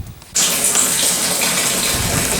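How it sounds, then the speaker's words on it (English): Garden hose filling a plastic water barrel: a sudden start into a loud, steady gushing rush of water that continues without a break, close by. "while I've got the garden hose filling this one"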